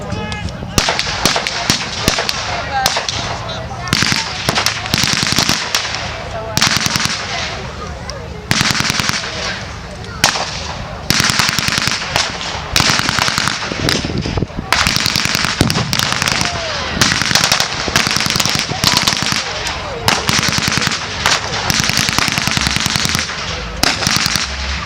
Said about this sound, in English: the continuous firing you just heard there, the Americans have managed to bring up a heavy machine gun, a 30 caliber